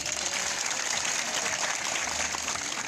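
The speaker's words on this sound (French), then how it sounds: "applaudissez" Students at a middle school in Keur Samba Kane applaud together, a dense, steady wash of clapping from a large group that carries evenly from start to finish without talk.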